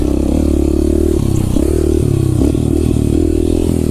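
A dirt bike ridden on a rough forest trail, its engine droning loud and close with shifting revs, while clatter and scraping come from the uneven ground.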